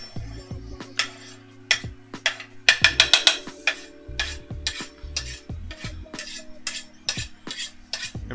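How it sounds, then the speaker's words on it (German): A spoon stirs beef stroganoff with dill in a pan, repeated metallic scrapes and clinks against the pan in an uneven rhythm over soft sizzling, close and clear with no talk. "Wir hauen jetzt den Dill da rein."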